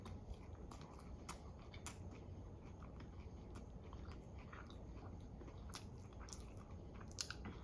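Crunchy chewing of a Taco Bell chipotle taco, close and quiet, with steady bites and crisp crackles and no talking.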